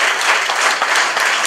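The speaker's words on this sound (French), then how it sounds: "que je remercie sous vos applaudissements" Dense applause from a political rally audience at a 2014 municipal election list presentation, a steady wash of many hands clapping close and loud throughout, with no talk over it.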